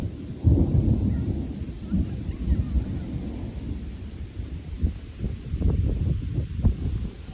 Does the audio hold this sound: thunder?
yes